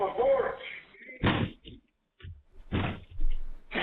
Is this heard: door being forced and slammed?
yes